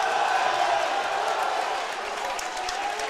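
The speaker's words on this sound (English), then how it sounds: "And the crowd does not like that call." A college basketball crowd in a gym, Thiel versus Allegheny, reacts loudly against a referee's charge call with a sustained roar of voices and scattered clapping that eases slightly as it goes on.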